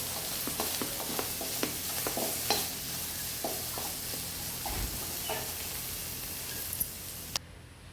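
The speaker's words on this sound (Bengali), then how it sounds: "তো একটু ঢাকনা দিয়ে দিলাম পেঁয়াজটা একটু হালকা মজানোর জন্য।" Onions fry gently in a lightly oiled, lid-covered pan, a soft continuous sizzle with scattered small pops and faint stirring clicks, close and quiet with no talk.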